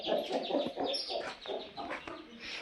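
Cross-breed hen with her chicks clucking nearby, a steady run of soft clucks and chirps close to the recorder, with no talk.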